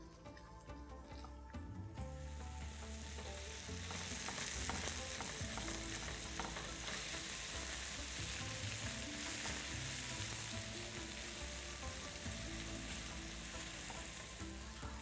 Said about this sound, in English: This will help in releasing a lot of moisture from the onions, and that way it'll start browning faster.